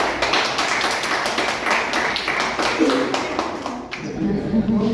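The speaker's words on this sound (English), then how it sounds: "Let's give a round of applause for DK." A Toastmasters public-speaking audience in East Delhi gives a round of applause, a close, busy patter of many hands clapping throughout, with some voices mixed in.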